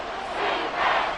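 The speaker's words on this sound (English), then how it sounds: "This crowd trying to force a false start here." A football stadium crowd roars loudly and steadily, trying to force a false start on a third-and-inches play late in the game, a broad swelling wall of noise with no clear single voice.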